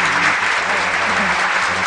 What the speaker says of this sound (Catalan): A tots tres, un aplaudiment de benvinguda.